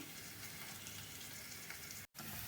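Finely chopped onions fry in a pan for chapati kurma, making a continuous, even sizzle with no voices and a short cut near the end.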